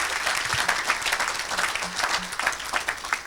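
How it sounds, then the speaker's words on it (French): An audience at a French evangelistic gathering applauds and cheers for the Lord, a dense burst of clapping with scattered shouts sustained from start to finish. "Acclame pour le Seigneur."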